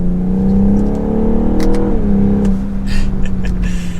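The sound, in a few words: 2022 BMW M440i Coupe accelerating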